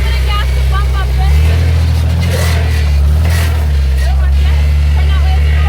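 An off-road vehicle's engine revs up and down in a steady, loud low drone as gas is applied, with a person talking over it.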